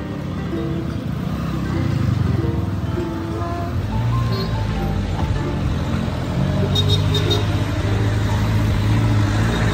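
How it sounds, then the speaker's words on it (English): Heavy road traffic rumbles continuously at the Madanriting taxi stand in Shillong, a dense wash of engines and tyre noise with faint distant horns, steady and fairly loud. "there's a heavy traffic here"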